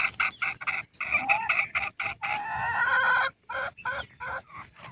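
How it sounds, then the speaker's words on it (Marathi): Several chickens cluck and squawk close by in rapid, overlapping bursts, with one longer drawn-out call in the middle. "कोंबड्या कोंडलेल्या आहेत त्याच्यामध्ये त्यांचा काव काव सुरू आहे"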